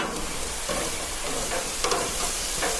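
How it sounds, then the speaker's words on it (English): Stuffed barbecued pork sears in a pan with a constant close hiss and sizzle, broken by a few soft scrapes and pops as it is handled, with no talk. "I need it to be seared on both sides"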